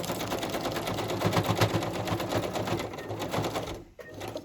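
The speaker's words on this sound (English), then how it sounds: "I might just zigzag down the middle." A sewing machine runs a zigzag stitch for a craft project, its rapid mechanical chatter steady and close for about four seconds before a brief pause near the end.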